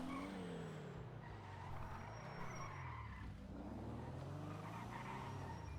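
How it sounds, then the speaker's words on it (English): Tires screech in a car chase in the GTA role-play game, with an orange Porsche following closely, the engines roaring continuously at high volume throughout and the skidding sustained rather than in separate bursts. "The orange color Porsche is following it very closely behind."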